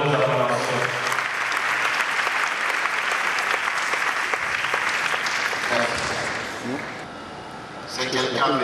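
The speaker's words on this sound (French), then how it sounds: "exaltons le Seigneur au travers de nos acclamations." A church congregation applauding loudly with cheers and acclamations, a sustained dense wash of clapping that dips briefly near the end before rising again.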